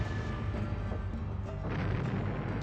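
Missile fire in the Warhammer Epic 40k strategy game Final Liberation, a dense, steady rumble of launches and distant blasts rolling on without a break for under three seconds, with no voices over it.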